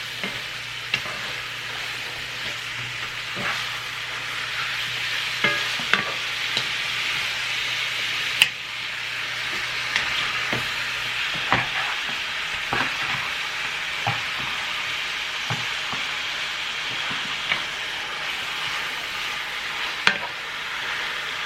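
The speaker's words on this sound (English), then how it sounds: "now that that's cooked, we're just going to add in the meat" Thin-sliced meat sizzling in a hot pan while being stirred, a continuous close frying hiss broken by scattered scrapes and clinks of the utensil.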